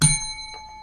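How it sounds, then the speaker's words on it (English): A single bicycle-style bell dings once, loud and bright, then rings out with a long shimmering decay. "Where's my goddamn bell at?"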